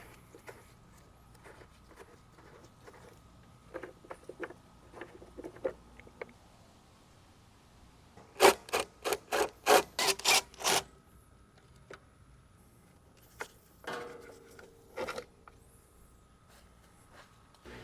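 A Kohler Courage 20 HP engine's carburetor comes off with scattered light clicks and handling noises, then a quick burst of about eight sharp ratchet-like clacks, followed by a few more faint knocks, with no talking.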